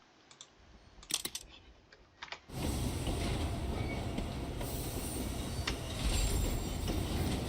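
Train rolling along the rails in the game Railgrade, a steady loud rumble that starts suddenly and runs on with faint squeals, preceded by a few soft keyboard clicks, with no talking.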